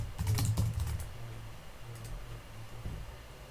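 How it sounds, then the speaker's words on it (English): Questions being typed on a computer keyboard, a quick cluster of close keystrokes at the start followed by a few sparse, softer taps over a low hum. "we can start typing questions just by simply typing here and then clicking the Ask button"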